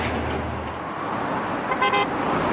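A car horn honking amid road traffic noise, a short double toot rising briefly above the steady rumble of vehicles.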